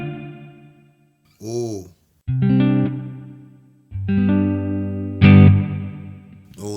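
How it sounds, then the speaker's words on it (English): Electric guitar notes and chords ring out through a spacious reverb on a Hotone Ampero Mini processor, each phrase trailing off into a long decay, with a short vocal exclamation between them. "sweet, spacious reverb effect while maintaining the clarity of the original sound"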